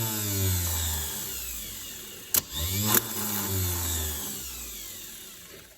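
A jet boat's starter motor sits on a test bench and cranks continuously, a steady whirring whine that shifts in pitch, broken by a couple of sharp clicks near the middle.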